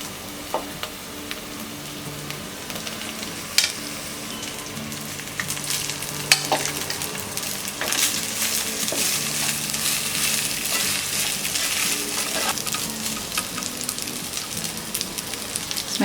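Cooked rice being stirred and fried in a pan for a tricolour pulao: continuous close sizzling and crackling with scraping strokes from stirring, growing slightly louder midway, with no talking.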